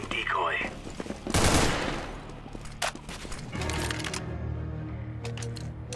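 In CS:GO, a decoy grenade fakes gunfire with loud, rapid bursts of cracking shots that come in clusters and stop-start volleys over steady background game noise.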